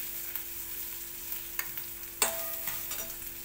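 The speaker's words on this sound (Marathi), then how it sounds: "आता तेलात सगळा कांदा भाजून घेते।" Onion frying in oil for a dry chicken curry gives a quiet, steady sizzle, with a few sharp spoon scrapes and taps as it is stirred.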